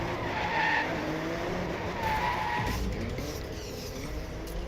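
Car skidding with a sustained tire squeal after a handbrake turn in the racing game DRIVECLUB, engine drone underneath, steady and close throughout.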